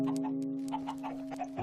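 Several Minecraft chickens clucking in soft, scattered bursts over a steady electronic hum, fairly quiet and close, with a brief click near the end.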